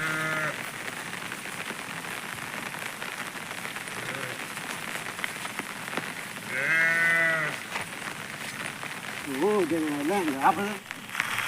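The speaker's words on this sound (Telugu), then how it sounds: "ఈరోజు మొత్తం వర్షం పడుతూనే ఉంది." Rain falls steadily throughout at a rural cattle farm, a constant hiss with sheep or goats bleating nearby in short bursts and a voice speaking briefly.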